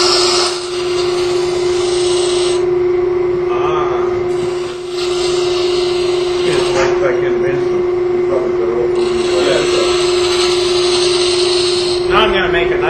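Wood lathe turning a lamp part with a spindle gouge, a steady high motor hum with bursts of hissing, scraping cuts coming and going, with someone talking throughout.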